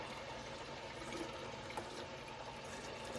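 Homemade buttermilk poured into a container in a kitchen, a soft, steady liquid trickle and splash, quiet and close, with no talking.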